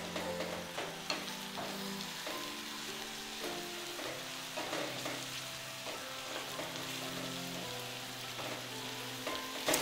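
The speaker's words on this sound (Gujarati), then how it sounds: "આપણે આ રીતે 1 મિનિટ સુધી સાંતળવાનું છે" Ginger, chili and garlic paste sautés in hot oil with curry leaves and red chili powder, a steady crackling sizzle with repeated stirring and scraping knocks throughout, no voices.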